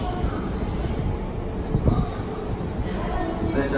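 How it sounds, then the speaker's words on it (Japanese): A train passes through platform 6 at JR Yokohama Station at night, a loud close steady rumble of wheels and cars rolling by, with faint squeals and clatter throughout. "6番線を列車が通過いたします。"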